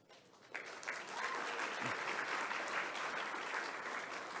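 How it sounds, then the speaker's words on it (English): Applause from a banquet audience at the ISI Gala for Western Civilization honoring standing guests, starting after a brief pause and holding as a steady, moderately loud wash of clapping. "You can save your applause for the end."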